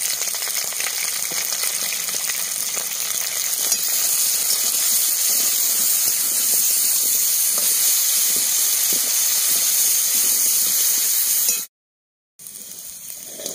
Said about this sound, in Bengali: এবার মেটে আলুটা দিয়ে দিচ্ছি। হলুদ আর লবণ দিয়ে ভেজে নেব।